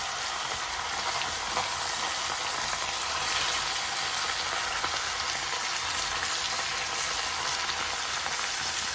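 Masala-coated fish, spiced with chili and turmeric powder, frying in hot oil with a dense, steady, close sizzle that holds unbroken throughout.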